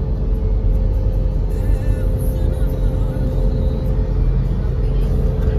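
A car speeds along a highway in Uttarakhand, its steady loud road rumble and engine drone continuous and close throughout, heard from inside the cabin with no talking.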